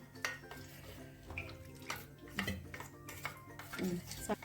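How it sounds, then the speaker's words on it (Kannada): Maida flour dough is mixed by hand in a kitchen, giving soft, wet squelching and slapping with occasional clinks of a bowl, all moderately quiet beneath steady talking. "ಸ್ವಲ್ಪ ಚೆನ್ನಾಗಿ ಕಲಸಿ ಗಂಟಿಲ್ದಂಗೆ ಕಲಿಸ್ಕೊಂಡು ಇಟ್ಕೋಬೇಕು"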